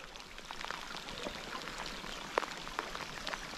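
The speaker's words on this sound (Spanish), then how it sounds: "¿Cómo llueve, chicos? Madre mía." Heavy rain falls during trout fishing outdoors, a faint, steady hiss of drops with a few sharper splashes, heard alone without talk.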